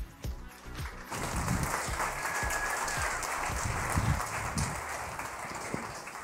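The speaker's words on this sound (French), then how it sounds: "on applaudit Abdel" An audience at a French conference on online selling applauds the speaker Abdel Halim. After a brief quieter moment, a broad wash of many hands clapping rises and holds steady, moderately distant.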